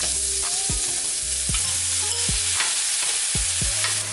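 Mushrooms fry in butter in a pan with a loud, constant sizzle, broken by several sharp knocks and scrapes of a utensil stirring them at irregular intervals.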